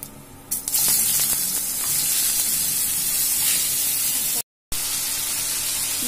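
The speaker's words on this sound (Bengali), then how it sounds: "এবার আমরা তেলের মধ্যে পাঁচফোড়ন সংবাদ দিয়ে ঝিঙেটাকে দিয়ে দেব" Ridge gourd sizzles steadily in hot oil with panch phoron, a dense, loud frying hiss after a short quieter start, with a brief drop to silence near the end before the sizzle resumes.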